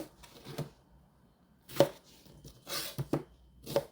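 A knife slices through an onion on a cutting board while chive kimchi is prepared, giving about five crisp, separate chopping knocks at uneven intervals. The knocks are close and distinct against a quiet background, with no talking.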